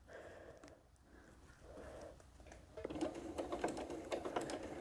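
A sewing machine stitches a mitered corner in a few short bursts, then runs in a steady rapid clatter of the needle that grows louder toward the end, heard close up.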